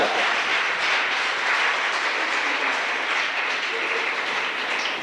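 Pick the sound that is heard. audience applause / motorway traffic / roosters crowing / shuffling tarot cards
audience applause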